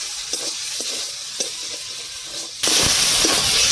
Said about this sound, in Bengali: এবার ভালো করে মশলাটা কষিয়ে নেব।